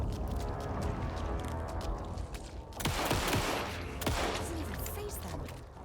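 Gunfire while shooting at enemies in Alan Wake II, several sharp shots cracking over a dense, noisy game soundscape, with a couple of louder blasts partway through.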